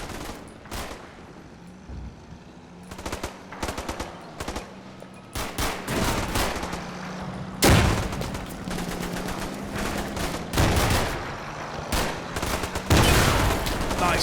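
Gunfire from the WWII tactics game Combat Mission: Battle for Normandy, set at Villers-Bocage: repeated sharp rifle and machine-gun bursts over a steady engine rumble, with louder, denser volleys later on.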